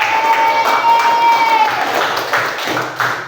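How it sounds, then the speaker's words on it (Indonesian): Students in an Islamic education classroom clap for the first group to finish, a busy, fairly loud round of applause with some crowd murmur underneath. "kita kasih tepuk tangan dulu untuk kelompok"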